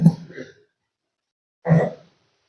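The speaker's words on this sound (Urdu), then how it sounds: "آج تو کھانسی پورے زوروں پہ ہے" A man giving a Quran lesson coughs in two short, harsh bursts, one at the start and one about a second and a half later, separated by silence.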